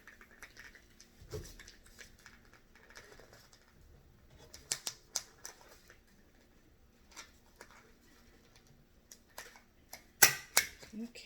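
Scissors make a quiet run of short, crisp snips while cutting a paper plate for a banjo craft, with soft handling noises and occasional speech between cuts.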